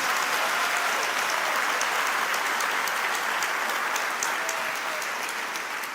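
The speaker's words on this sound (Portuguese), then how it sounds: "Você pode aplaudir o nome de Jesus?" Sustained applause from a church congregation, dense and steady clapping throughout with no voices rising above it.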